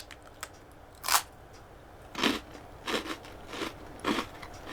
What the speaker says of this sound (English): Oh, it's super crunchy.